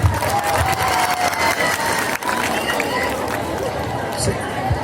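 Audience applause and cheering at an outdoor Bhim Sakal stage event in Wardha, a loud dense wash of clapping and crowd noise lasting throughout.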